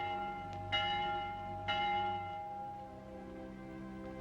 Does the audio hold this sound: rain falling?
no